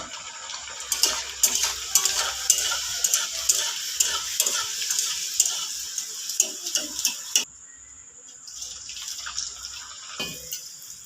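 Luchi made from leftover rice fry in hot oil, giving a steady bubbling sizzle with scattered crackles and clinks that drops to a quieter fizz partway through, close and without talk.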